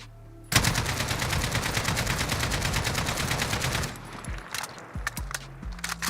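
Rapid automatic gunfire in Modern Warfare aimed at a target, a dense, loud, evenly spaced burst lasting several seconds, then quieter game sounds and a few faint clicks.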